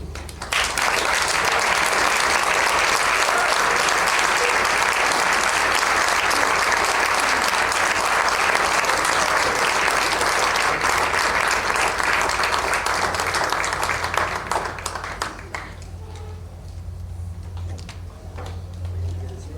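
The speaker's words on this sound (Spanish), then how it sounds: "Un aplauso para todos" Sustained audience applause at an anniversary talk event, dense and loud clapping that holds steady for about fifteen seconds before tapering off into quiet room noise.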